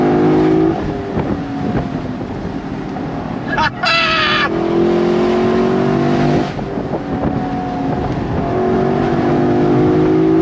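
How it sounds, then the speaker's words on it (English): A loud V8 engine of a 2023 Lexus LC 500 roars continuously as the car accelerates, with rising revs, gear changes and wind rush, close and dominant throughout. "Love the roar of that V8."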